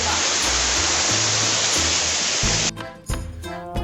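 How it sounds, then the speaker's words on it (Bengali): A waterfall along the Keokradong trail keeps up a dense, even rush of falling water, loud and close, before cutting off abruptly near the end into quieter background sound. "অপরূপ সুন্দর ঝর্ণা ঝর্ণাটি যেন তার আপন মনে বয়ে চলেছে"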